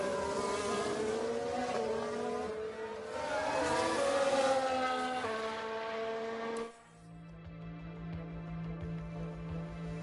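F1 race car engines at Suzuka in F1 Manager 22 whine with rising and falling revs under a car running wide, then cut to a lower steady engine drone.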